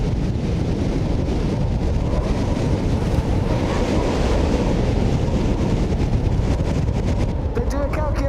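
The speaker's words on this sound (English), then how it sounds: "65, maybe 70 miles an hour worth of wind" Strong wind of about 65 to 70 miles per hour roars in a continuous loud buffeting rush, battering close against the microphone with a surf-like rumble and no letup.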